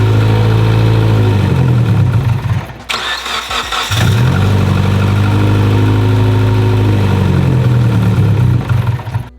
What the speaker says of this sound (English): You see how when it fires up, we have good fuel pressure and then it slowly drops out and kills the motor.